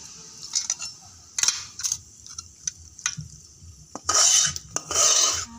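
Cooked fish curry is scraped from a pan into a bowl with a metal spoon, giving sharp clinks and scraping rasps in short bursts with brief pauses, ending in two longer scrapes.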